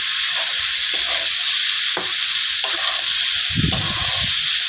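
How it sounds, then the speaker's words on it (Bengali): Rice stir-fried in a pan for Chinese fried rice, a loud continuous sizzle with repeated scraping and knocking as the rice is stirred and turned, the clatter heaviest near the end. "এবার হালকা নেড়ে চেড়ে ভেজে নেব।"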